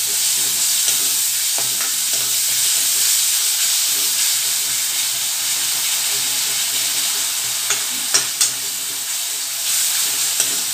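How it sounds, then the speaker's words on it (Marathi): Tomatoes frying in hot oil give a steady, loud sizzle and hiss with occasional light stirring clicks throughout. "याच्यामध्ये मी टोमॅटो घालते छान भाजून घ्यायचं तेलामध्ये"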